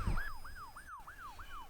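An emergency vehicle's siren wails in quick repeating up-and-down sweeps, about five cycles in under two seconds, fairly faint and distant over a low road rumble.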